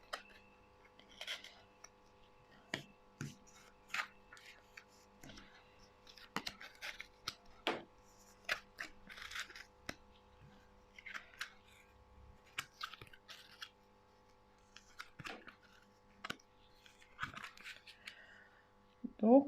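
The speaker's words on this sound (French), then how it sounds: "Donc, nous allons procéder au tournage des cartes" Tarot cards handled and turned over, giving soft repeated rustles, flicks and slides of card stock close by, with someone speaking throughout.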